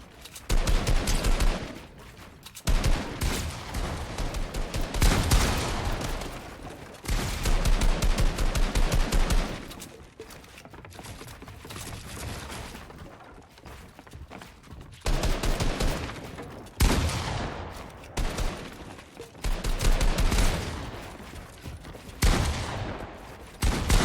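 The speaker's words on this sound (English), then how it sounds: "He tries to go for a shot on Duke." Repeated gunfire from a Fortnite boxfight in competitive play, loud bursts of rapid shots in long volleys separated by short gaps, continuing across the whole stretch with no voices.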